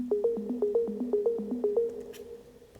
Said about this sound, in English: if you want to make an arpeggio kind of sound, just take your chords, make it really short, like a 1/4 of a beat